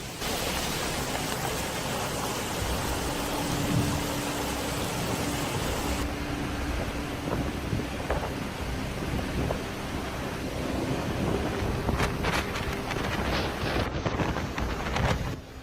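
Heavy rain pours in a steady, dense roar with wind gusts during a thunderstorm, low thunder rumbling beneath throughout and a few sharp crackles near the end.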